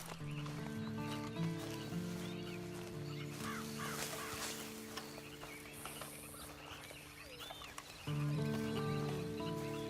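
A horse in the video game Red Dead Online, with faint hoof clops and a brief whinny set under sustained tonal game music, quiet and somewhat distant throughout.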